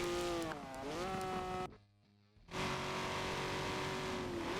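A touring race car at Spa circuit in the Sport Touring Series roars past, its engine note rising then sweeping away, with a brief muffled drop in the middle before loud engine noise returns close by.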